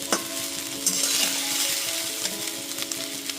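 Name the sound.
cooked rice being mixed in a pan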